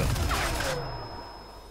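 Gunfire in the video game Crysis 3 (beta), a dense burst of shots in the first moment that cuts off sharply, leaving a fading tail of game ambience.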